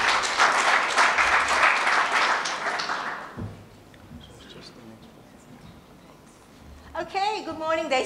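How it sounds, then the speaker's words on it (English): Audience applause at a career expo, loud dense clapping for about three seconds that cuts off abruptly, followed by quiet room noise and then a voice beginning to speak near the end. "Give us a round of applause."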